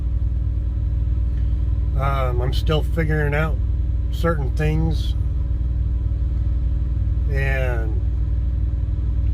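Steady low engine rumble and drone inside the cab of a brand new truck, continuous throughout while someone talks over it.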